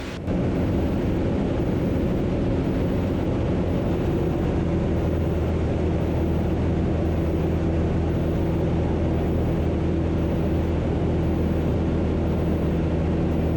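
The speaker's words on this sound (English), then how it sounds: "This UL Power engine has 130 horsepower, and it's a lot of power for this little airplane." A UL Power engine rated at 130 horsepower drones steadily on a small airplane, loud and close throughout with a constant tonal hum and no pauses.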